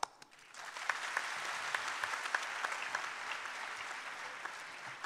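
Audience applause in a university hall at the University of Kashmir during a student interaction event, a broad sustained wave of clapping with a few sharper individual claps standing out, moderately distant and even in loudness.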